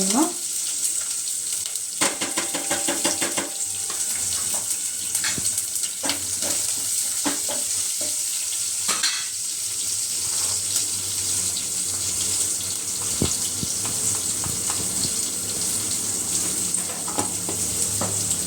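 Mustard seeds, cumin, chili, crushed ginger and curry leaves frying in oil, a loud continuous sizzle and spatter with scattered clinks of stirring, steady from start to finish.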